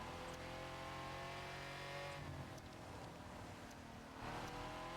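Street car engine in the racing video game The Crew 2, a continuous droning motor that rises and shifts through gears with throttle surges, steady and fairly close without speech.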